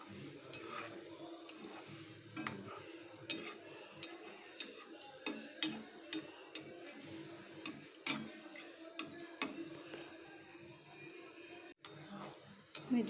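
Gulab jamun balls frying in hot oil and stirred gently, a soft steady sizzle under scattered light ticks and scrapes of the spoon against the pan, close and quiet.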